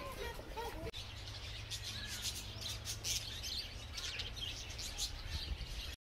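Birds chirp and tweet steadily at the Chandigarh Bird Park, a new aviary park in India, with calls scattered over a constant outdoor hum and a voice talking throughout.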